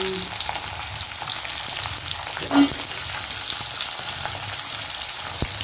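Shallots frying in a pan give a steady, loud sizzle and crackle throughout, with a brief clink of a utensil and no talk.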